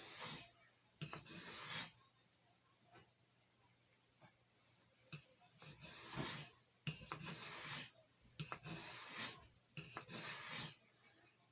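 A large stockman pocket knife blade is drawn across a soft Arkansas oilstone in close, hissing rasping strokes, each lasting about a second, repeated in uneven pairs and runs with quiet pauses between.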